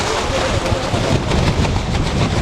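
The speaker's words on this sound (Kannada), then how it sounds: "ಭಯಂಕರ ಗಾಳಿ ಇದೆ, ಮೇಲೆ ಹತ್ತಕ್ಕಾಗಲ್ಲ." Strong wind on a hilltop trek, buffeting the microphone as a loud continuous roar that covers the whole stretch.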